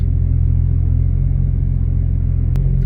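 Deep, steady engine rumble from a pink Porsche 911 GT3 RS, loud and close, holding a constant idle-like drone without revving.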